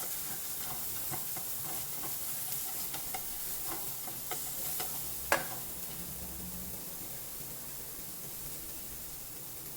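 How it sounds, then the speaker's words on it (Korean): White onion with a pinch of salt stir-frying in a lightly oiled frying pan for japchae, a soft even sizzle broken by spatula taps and one sharper clack midway. "소금 한 꼬집 가지고 와서 자, 양파 볶아주시고"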